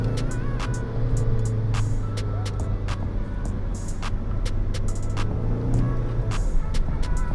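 A manual Seat Leon 1P FR170 with traction control switched off drives hard, its engine droning steadily and loudly throughout with a few sharp transient clicks over the top.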